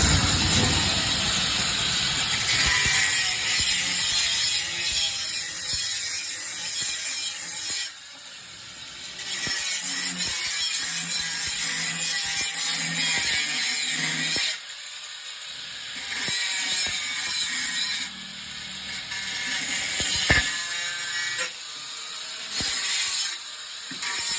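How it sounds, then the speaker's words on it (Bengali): A grinder machine finishing a wire-drawing die, giving loud harsh grinding and hissing in bursts, with brief pauses and quieter gaps between passes and no talk. "তো এটা আবার ফিনিশিং করতে হবে এই গ্যান্ডের মেশিন দিয়ে"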